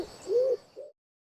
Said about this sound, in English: Song is the typical cooing of a pigeon, with a characteristic rhythm.